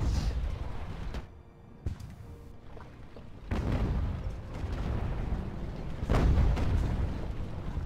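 Mortar and artillery fire in Ultimate Admiral: Age of Sail, a siege battle at Toulon, sounds as several heavy booms and bursts over rumbling battle noise, some sharp and close, others rolling and distant.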